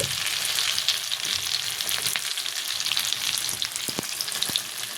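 Beef kebab patties fry in hot oil in a pan, making a steady close sizzle with a few sharp pops and crackles as they are turned, with no talking.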